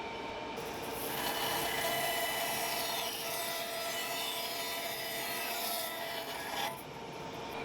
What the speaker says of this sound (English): I head over to the bandsaw and rip off any excess material